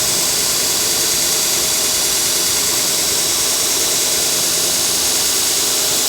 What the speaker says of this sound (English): Gently, just touch it to the wheel. Take that wood off.